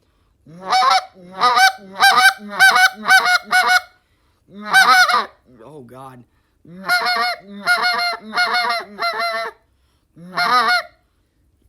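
A person imitates goose calls with a hand call, quick double and triple clucking honks in bursts, loud and close, with a brief spoken remark midway.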